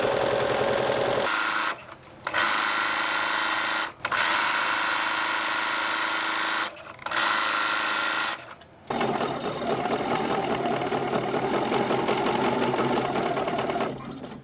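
A sewing machine hums loudly and close while stitching a double-sided baby blanket, its steady run interrupted by several short stops as the needle is sunk and the fabric pivoted at a corner.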